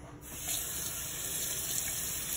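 Tap water runs into a kitchen sink while raw chicken is rinsed off, a steady splashing gush that starts abruptly and continues without a break, with no talk.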